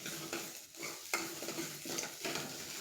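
Spice masala for a potato curry being stirred in an oil-filled pan, soft sizzling under a few distinct scrapes of a spoon against the pan, close and moderately quiet.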